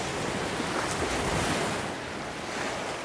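Waves roll steadily onto the shore of Pangong Lake in Ladakh, a continuous close wash of surf with wind rushing across the microphone and no voices.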